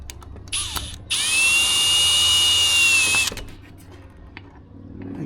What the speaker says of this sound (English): but get my drill.